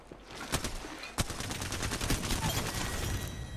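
Rapid sustained gunfire in Apex Legends, with a dense stream of bursts and shots running through the whole stretch at a fairly constant, moderate level and no voices.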